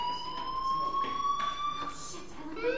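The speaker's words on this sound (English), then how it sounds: "Hey, do you hear that fire alarm?" A fire alarm rings in a video game, a steady electronic tone with higher overtones that keeps sounding throughout, accompanied by a few short bursts of other noise in the background.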